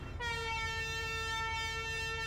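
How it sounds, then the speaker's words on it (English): A loud, steady vehicle air horn in Grand Theft Auto V's Arena War blares with a rich stack of tones, holding continuously for about two seconds after a brief start. "Having the air horn, that's something,"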